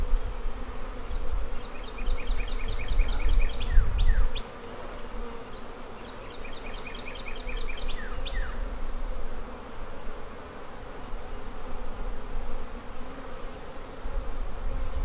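Honey bees drone steadily around a beehive after a swarm, a close, continuous buzz, with repeated bird chirps heard twice in the background.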